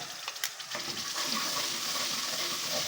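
Masala mixed into yogurt with coriander, turmeric, cumin and chilli powders frying in a pan for shahi paneer, a steady close sizzle with a few stirring scrapes at the start, no talk.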